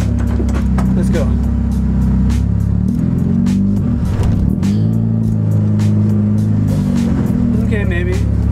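A car with a K-tuned throttle body and throttle position sensor issues, driven on the road after a repair, giving a steady, loud engine drone with rising and falling revs throughout, plus light cabin clatter.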